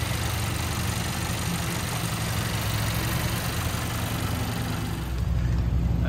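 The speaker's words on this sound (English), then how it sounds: "Four cylinder runs nice and smooth." A 2015 Honda CR-V four-cylinder engine idling under the hood, a steady, smooth low hum with a constant even drone throughout.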